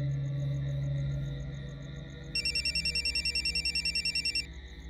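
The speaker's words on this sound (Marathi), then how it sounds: "साहेब मोरेंचा फोन आहे हॉस्पिटलमधून." An electronic telephone ringtone in a hospital-call scene trills in a steady pulsing burst over a low background hum, loud and close, with no talking over it.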